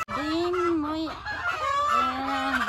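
Local farm chickens give a steady, close run of clucking calls with rising and falling tones, one long drawn-out call after another, with no talking.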